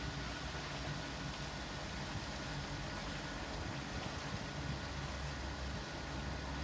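An Astral E Series pool filter pump runs with water rushing through it, giving a steady, loud, broadband hiss and rumble that holds unchanged from start to finish.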